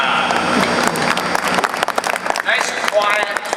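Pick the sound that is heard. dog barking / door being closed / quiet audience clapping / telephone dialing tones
quiet audience clapping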